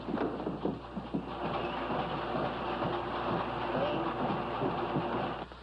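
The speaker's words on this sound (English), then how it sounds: "I knew all the time you were making a cement mixer" A homemade cement mixer runs in a garage, a steady rumbling churn with rhythmic clanking and rattling, close and continuous throughout.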